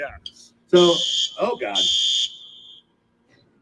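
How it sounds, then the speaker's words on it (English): A fire alarm goes off at a craft fair, sharp high electronic beeps sounding between and over voices talking close by. "There's a fire alarm going off."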